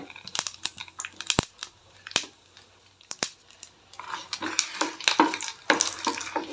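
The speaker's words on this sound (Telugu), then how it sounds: "నెక్స్ట్ ఆవాలు వేస్తున్నా ఇప్పుడు ఒక నాలుగైతే ఎండుమిర్చి వేసా" Mustard seeds and dried red chillies hit hot oil for a Telugu amaranth dal tempering, giving sharp pops and crackles that build into a steady close sizzle, with faint stirring.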